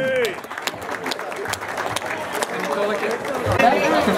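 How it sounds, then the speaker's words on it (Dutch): A crowd claps steadily for several seconds, with chatter and scattered voices mixed into the applause. "Geef ze een applaus, Bart van de Wijngaard, Tom van Eyck en eh,"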